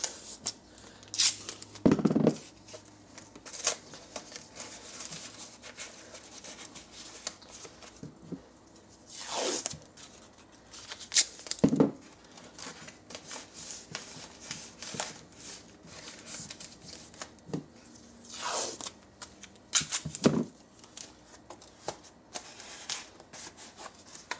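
Tape being torn and pressed onto cardboard while building a multi-viewer pinhole projector, heard as several sharp ripping bursts and rubbing crinkles at close range, spread irregularly through a quiet room.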